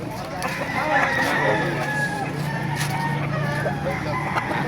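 Chickens cluck steadily with a rooster crowing among them, amid a busy background of voices and bustle at a chicken market in Baliuag, Bulacan, Philippines.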